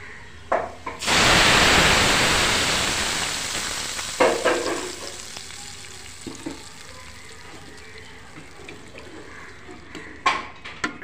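Bottle gourd hits a hot pan with a loud burst of sizzling that slowly fades into a lower simmering hiss, broken by a few clanks of stirring and utensil knocks.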